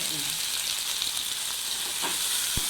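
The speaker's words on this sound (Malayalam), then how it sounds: "നന്നായിട്ടൊന്ന് ഇളക്കി കൊടുക്കാം." Mint and coriander fry and are stirred in a hot pan for kuska rice, giving a steady, close sizzle with light scraping from the stirring.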